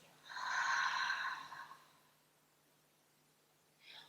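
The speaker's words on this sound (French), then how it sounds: "Et on expire." A long, audible breath is pushed out during a Pilates core exercise, a soft airy exhale lasting over a second that fades to quiet, followed by a brief second breath near the end.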